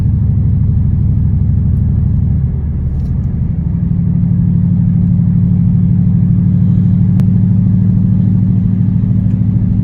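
A base model Mustang GT with an aftermarket drive-mode module cruises in economy mode, its engine a loud, even low rumble close up, dipping briefly before settling into a steady drone with no talk.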